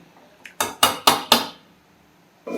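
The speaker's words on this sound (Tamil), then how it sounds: "முட்டையை உடைச்சி ஊற்றணும்" Eggs are cracked against a pot or bowl for an egg drop curry, four sharp, evenly spaced knocks in quick succession, followed by a quiet pause and a brief clatter.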